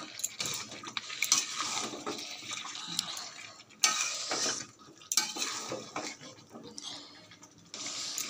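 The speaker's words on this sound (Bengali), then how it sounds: "দিয়ে এবার ভালো করে কষিয়ে নেব।" Onion-fried chicken pieces are stirred and scraped in a hot pan for a dry coriander chicken curry, with repeated close metal scraping and a low sizzle coming in uneven bursts.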